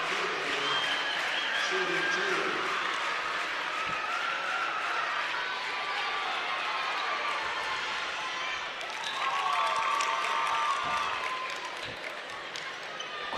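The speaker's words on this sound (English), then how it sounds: "Listen to the crowd." A high school basketball crowd at Gary 21st Century vs Liberty Christian applauds and cheers in a steady roar, swelling briefly near the end, while a commentator talks over it.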